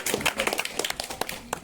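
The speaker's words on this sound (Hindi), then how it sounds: "इसलिए जोरदार तालियों से स्वागत कीजिए" A brief burst of audience clapping at a school Gandhi Jayanti celebration, fairly close, a small crowd of uneven claps over under two seconds.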